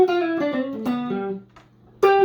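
An electric guitar plays a short chromatic bebop-style blues lick: single notes slide downward in quick steps, ring out and fade, then one more bright note is plucked near the end.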